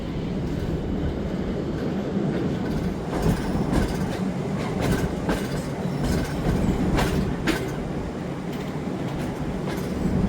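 The Karachi Express rolls past on the rails with a loud continuous rumble and rhythmic clickety-clack, plus occasional wheel squeal, steady and close for the whole stretch.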